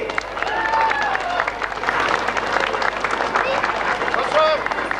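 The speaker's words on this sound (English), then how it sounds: "So a big round of applause, ladies and gentlemen, for the FCA." Outdoor crowd applauding along a parade route for a retirement march of former FCA members, steady clapping with crowd murmur and some cheering throughout, fairly loud and continuous.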